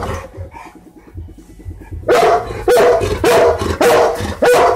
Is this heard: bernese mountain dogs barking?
yes